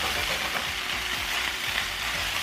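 Beans being mixed with a tablespoon of Greek yogurt, a steady soft wet scraping and stirring that runs continuously at close range with no talking.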